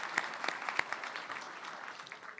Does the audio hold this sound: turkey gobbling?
no